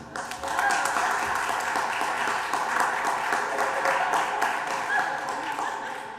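Applause in a school district board of trustees meeting room, a sustained even patter of many hands clapping at moderate distance, with no clear voices over it.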